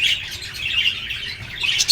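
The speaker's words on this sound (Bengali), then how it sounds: "এটাকে বলে শালিক জাবা।" Pied mynas, also called shalik java, squawk and chirp inside a bird shop, giving harsh, bright calls that repeat steadily throughout, close by with no talk.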